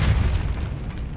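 A Confringo spell explosion in the video game Hogwarts Legacy lands as one loud, deep, rumbling boom that decays over about a second, with no talk over it.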